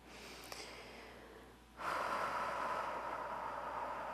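A slow, deep breath during a beginner yoga hamstring stretch is drawn in through the nose, then released as a longer, steadier exhale through the mouth. It is soft and close.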